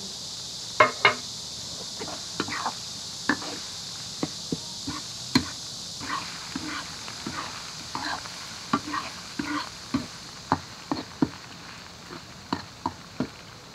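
Pickled chilies hit a hot pan with ginger and garlic, giving a steady sizzle and frying hiss under repeated sharp scrapes and clinks of a spatula stirring against the wok, close and continuous with no talk.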